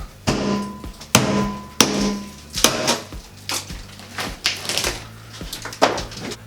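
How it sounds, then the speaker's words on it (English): Sharp hammer taps breaking through a bathroom soffit, probably drywall, during a fiberglass tub and surround install: about nine loud, separate impacts spaced roughly every half to one second, close by, with no talking. "we're just going to kind of tap through it, break some pieces out, take a look"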